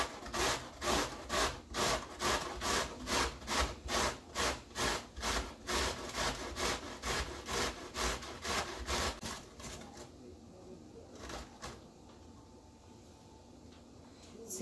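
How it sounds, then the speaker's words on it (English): Cauliflower rubbed against a standard handheld kitchen grater, making a steady rhythmic rasping scrape, about two strokes per second, close and loud for roughly ten seconds before the strokes stop and it falls quiet. "I'm just gonna get your standard grater and I'm just gonna start grating my cauliflower."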